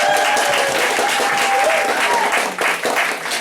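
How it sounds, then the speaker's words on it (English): Audience applause for the bar staff during a break at a spoken word event fills the room, dense and steady throughout, with a few whoops and a faint voice or tone riding over the clapping. "Can we give them a round of applause?"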